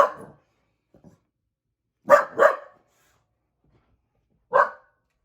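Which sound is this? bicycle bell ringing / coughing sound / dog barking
dog barking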